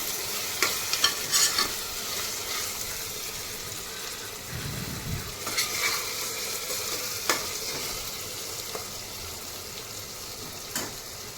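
Ginger garlic paste frying in a pan for country chicken curry, a steady close sizzle broken by scraping stirs and occasional clinks of the spoon, with no talking.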